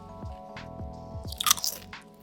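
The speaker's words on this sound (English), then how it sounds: "Listen to that crunch." Several loud, crisp crunches as a homemade tortilla chip is bitten and chewed, close up, with sharp bursts of crackling, no talking.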